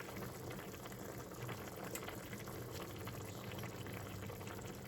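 Tomato sauce boils in a pot as a steady, close bubbling hiss with constant popping texture and no talk.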